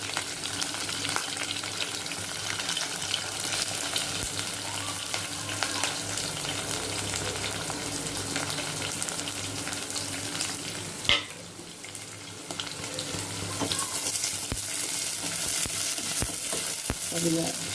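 Sliced onions and slit green chillies fry lightly in a pan, a steady close sizzle with occasional stirring scrapes and a brief clatter partway through, no voices.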